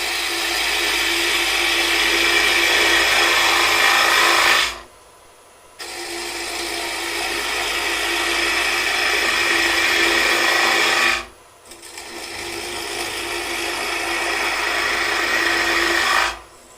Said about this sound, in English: as I bring the cutter in, I lean into the lathe